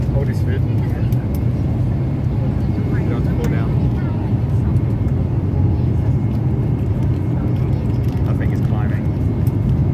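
A loud, constant engine roar fills an airplane cabin during turbulence over the Andes on a flight to Tierra del Fuego, with scattered rattles and indistinct passenger voices under the steady drone.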